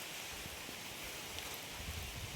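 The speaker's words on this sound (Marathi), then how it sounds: "एवढी जोरात पाऊस येत आहे" Faint, steady wash of heavy rain falling in a small garden, an even hiss with soft scattered patters and no voices.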